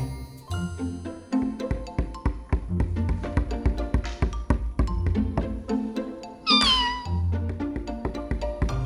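Cartoon cat meowing in a Slovenian children's animation, a rising meow standing out clearly over busy background music with chimes and tinkling.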